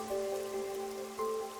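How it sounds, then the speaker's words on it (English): Rain falls continuously in the video game Master Detective Archives: Rain Code, a soft, even patter under sustained tonal music lines, with no talking. "The rain, it never stops."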